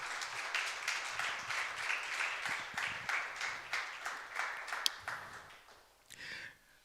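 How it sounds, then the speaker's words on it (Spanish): A church congregation applauds the Lord, a dense, steady patter of many hands clapping at moderate distance that carries for several seconds before fading out. "Dale un aplauso,"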